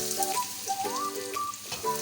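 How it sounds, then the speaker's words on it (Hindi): Finely chopped onions fry in two tablespoons of ghee in a pan, giving a steady close sizzle throughout with faint higher melodic tones over it. "प्याज को हम लोगों ने इतना फ्राई करना है कि ये बस लाइट पिंक हो जाए"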